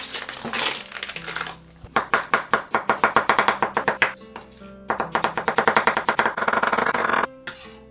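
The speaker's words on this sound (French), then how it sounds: "On va couper en bâtonnets." A knife cutting bamboo shoots into sticks on a board, with rapid, even, loud chops in two bursts and short pauses between them.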